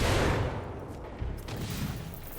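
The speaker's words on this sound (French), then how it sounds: "La grenade qui me touche à travers le mur" Grenade blast in the video game Flintlock, a heavy burst at the start decaying into a rumbling tail with scattered crackling gunfire-like impacts afterward.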